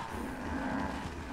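A Brahmin cow in Fallout 4 moos continuously from a rooftop, a steady, droning low call held for over a second with little break.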